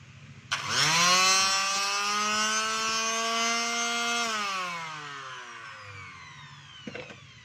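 A repaired DeWalt DWE6411 finishing sander switches on with a sudden start and runs with a steady buzzing whine for about four seconds, then winds down slowly, close and alone.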